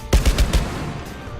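Four quick Desert Eagle pistol shots in the tactical shooter Rainbow Six Siege, loud and close with heavy low-end punch, fired in a tight rhythm followed by a short fading tail.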